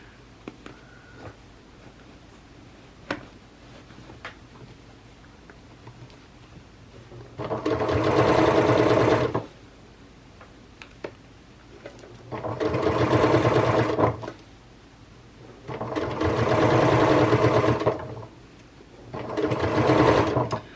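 Sewing machine stitching a donut-shaped dog toy in four loud bursts of fast, droning whir, each lasting a couple of seconds, separated by quieter stretches of fabric handling and clicks.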